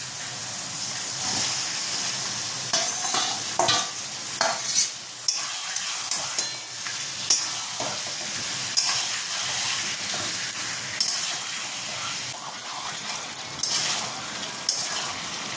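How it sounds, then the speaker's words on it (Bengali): Marinated chicken fries in a pan with ginger, garlic and green chili paste, a continuous close sizzle and hiss punctuated by repeated stirring clatters and scrapes, no talking. "এবার আমি ম্যারিনেট করা চিকেনটা দিয়ে দেবো।"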